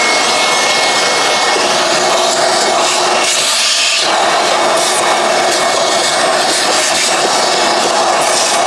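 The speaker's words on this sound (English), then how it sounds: "it's always best to vacuum out the bottom of the air filter box" Shop vacuum sucking dirt and sand out of the bottom of a Toyota Corolla's air filter box during a tune-up, a loud, steady, high-pitched roaring whine that runs unbroken throughout, with no talking.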